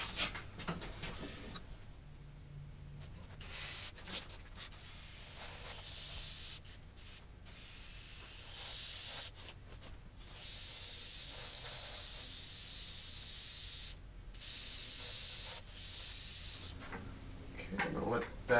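Orange spray paint hisses from a can onto a pinball machine being rethemed, in a series of long, close, steady bursts separated by short pauses, with no talking.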